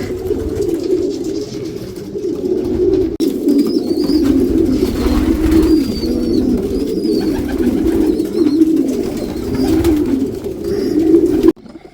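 Racing pigeons coo steadily and densely in a low, rolling chorus, close and continuous, with a flutter of wings now and then.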